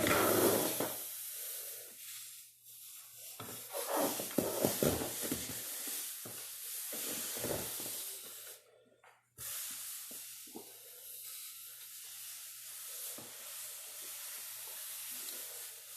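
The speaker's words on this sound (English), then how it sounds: "Get a little more steam." Steady broadband hissing of steam from a steamer used to block a hat, swelling and fading in bursts with a brief cutoff midway, then resuming at a lower level.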